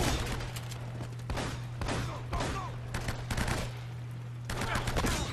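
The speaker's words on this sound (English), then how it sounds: "Ah, I shot him in the foot." Gunfire in Uncharted: Drake's Fortune crackles in repeated sharp bursts, several clusters of shots spread across the moment over a constant low game hum.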